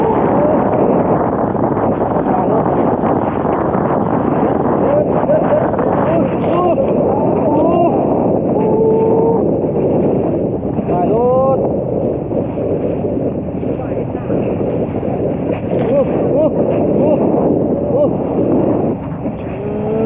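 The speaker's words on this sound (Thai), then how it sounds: "เสียงลมนี่นะ" Strong wind roars steadily across a boat on open water, a loud continuous rush with engine-like rumble underneath, while a voice talks intermittently over it.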